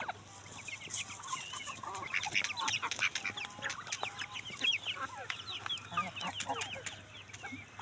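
Chicks and hens cluck and peep continuously on a farm where chickens and turkeys are kept, a dense, busy chorus of overlapping calls close by, with no talking.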